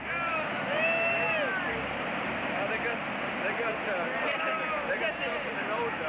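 Loud, steady roar of rushing river rapids, with a boat being dashed on rocks, fills the scene, with faint shouting voices barely rising above the churning water.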